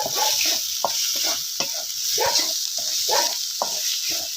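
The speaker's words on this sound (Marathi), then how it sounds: "आता हे पूर्ण एकजीव मिश्रण आपल्याला असं हलवून घ्यायचं आहे" Soybean bhaji mixture being stirred in a pan, with repeated scraping strokes of a spoon against the pan over a soft sizzle, in a steady rhythm with no voices.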